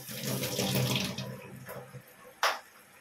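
Something is rinsed under a running kitchen tap, a close rush of water that thins out, followed by a short splash near the end.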